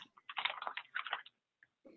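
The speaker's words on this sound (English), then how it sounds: "I think somebody's typing." Someone types on a computer keyboard in quick bursts of soft, clicky keystrokes that pause briefly, faint and slightly distant in the background, with no voices.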